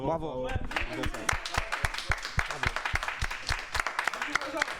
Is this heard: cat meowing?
no